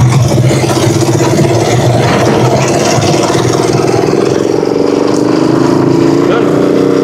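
A Rusi Chariot 175 tuktuk engine runs loud and close, a steady rough mechanical chug with a slight rise in pitch toward the end, with some talk faintly underneath.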